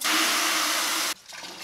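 A loud, steady gush of water pours into a bucket for about a second, then cuts off abruptly, leaving a brief softer splash and trickle, while measuring water for making pottery clay.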